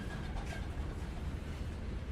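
Train rolling along the track, a short steady low rumble with a faint rattle, heard alone.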